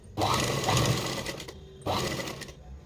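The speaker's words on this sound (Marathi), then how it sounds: "या ठिकाणी असं स्टिचिंग करत जायचं आहे जशी आपण मार्किंग केलेली आहे त्या पद्धतीने आपल्याला स्टिच करायचं आहे" An electric sewing machine stitches a princess blouse in two close, loud bursts of rapid mechanical whirring and needle clatter, separated by a short pause, with no talk.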